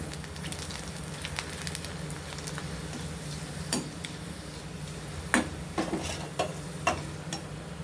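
Vadagam made from leftover rice deep-fries in oil, producing a soft, continuous bubbling sizzle with scattered sharp crackles and a few louder pops near the end, fairly quiet and without speech.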